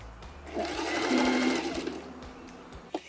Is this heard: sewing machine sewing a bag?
yes